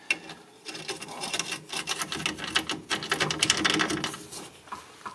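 A power tool rattles rapidly while tightening nuts on the rear shock absorber of a 2006 Mercedes C200, a close, busy mechanical chatter in uneven bursts.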